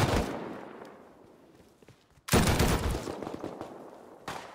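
Heavy M2 gunfire in the survival video game Rust: a sudden loud burst of rapid shots after a quieter stretch of fainter fire, continuing densely for over two seconds with another sharp volley at the end.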